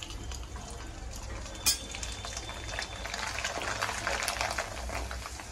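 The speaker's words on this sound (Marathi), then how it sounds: "आता थोडं थोडं करून नायलॉन साबुदाणे चांगले तळून घेऊया" Nylon sago pearls (sabudana) deep-frying in oil for a crispy fasting chivda, a steady bubbling hiss with faint crackle and one sharp clink near the start, no talking.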